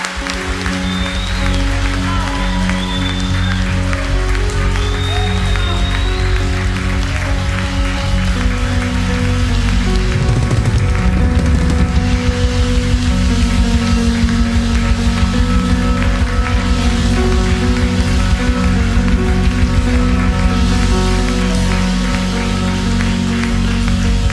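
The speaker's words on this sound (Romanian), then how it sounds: "Haideți să aplaudăm pe Cel care este vrenic de laudă." A church congregation applauds together in sustained, dense, even clapping that lasts throughout, loud and close, with music or voices faintly underneath.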